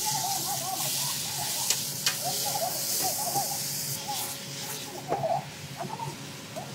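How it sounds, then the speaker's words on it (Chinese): Pork tripe and green peppers stir-fry in a wok at a Shandong market stall, giving a continuous hiss and sizzle with occasional clinks and scrapes of the utensil. "青椒爆炒猪肚啊。"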